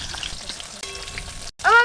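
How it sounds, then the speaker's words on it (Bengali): Fish fries in oil in a village kitchen, a steady soft sizzle and crackle running throughout, broken by a brief silence and then a louder clatter near the end. "দাদু অনেকক্ষণ ধরে এদিকে মাছ ভাজা করছে"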